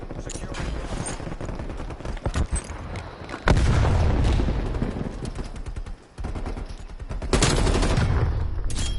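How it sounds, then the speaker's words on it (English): Rapid automatic fire from a sentry turret in Call of Duty: Black Ops Cold War on PS4, loud continuous bursts with booming impacts, running almost the whole time with short gaps between volleys. "How the fucking sentry turret shoot me?"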